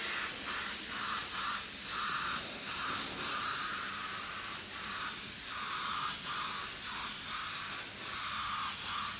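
Airbrush spraying base clear coat for old school pinstripes, a steady, close, loud hiss of compressed air throughout with faint rhythmic pulsing and no talking.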